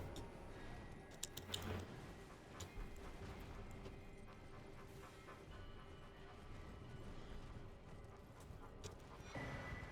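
Horse hooves in the Elden Ring video game, faint and quiet rhythmic clip-clops with small mechanical clicks over a low game ambience that lasts ten seconds.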